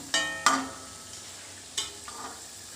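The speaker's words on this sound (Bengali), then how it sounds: "প্রত্যেক কটা এরমভাবে ভেজে নেবো কম স্টিমে ভাজবে" Chira and cauliflower chops browning in oil over low heat, a few short clatters and light stirring knocks over a faint sizzle, no voices.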